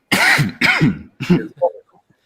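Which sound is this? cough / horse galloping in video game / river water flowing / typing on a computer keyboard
cough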